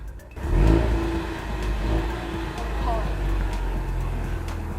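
A 2020 Ford Mustang 2.3L High Performance exhaust in sport mode burbles with a deep, steady rumble that swells briefly near the start, then settles into an even idle drone.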